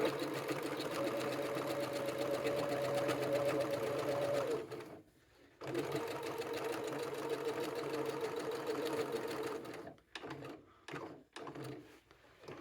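A sewing machine runs steadily while stitching tote bag seams, a close whirring hum that stops briefly, resumes, then breaks into short stop-start bursts near the end; no talking over it.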